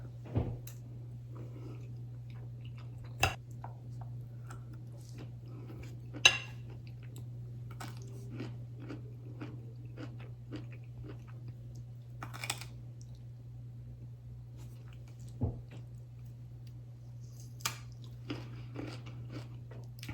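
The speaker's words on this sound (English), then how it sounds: "Let's take another bite." Crunchy bites and soft chewing on food, asparagus among it, during a home mukbang, with sparse sharp crunches and faint clinks over a steady low hum, close and quiet.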